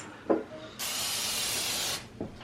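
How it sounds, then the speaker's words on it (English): Cooking spray hisses out of a can onto potatoes in a home kitchen, one steady burst lasting just over a second, close and fairly loud, framed by faint clinks. "I am just kind of spraying them with some of the cooking spray"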